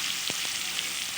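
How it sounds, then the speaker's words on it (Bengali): Potatoes frying in oil with salt and turmeric give a steady high sizzle, broken by a couple of soft scraping stirs near the start, close and fairly quiet. "এবার ভালোভাবে একটু নেড়ে চেড়ে আলুগুলো ওই তেলের মধ্যেই যাতে সেদ্ধ হয়ে যায়"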